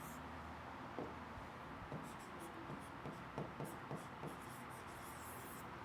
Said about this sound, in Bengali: এটা মুছে আবার সুন্দর করে লিখি